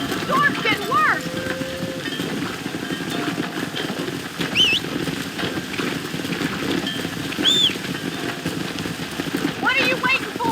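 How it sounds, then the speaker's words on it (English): Steady rain falling in the Red Dead Redemption video game, a constant wash of downpour under horse hooves, scattered animal calls and characters talking. "We're not gonna be able to hear each other in this rain."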